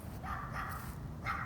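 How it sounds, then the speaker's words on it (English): A small dog barks outdoors at a cemetery in Washington DC, with two or three short yappy barks at moderate distance over a low background rumble. "I got some dog chasing me, a little dog."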